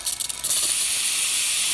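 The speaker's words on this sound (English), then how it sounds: "Test the steam." A Rocket espresso machine's steam wand lets out a loud, steady hiss that builds quickly and holds close to the mic, with a few sputters at the start.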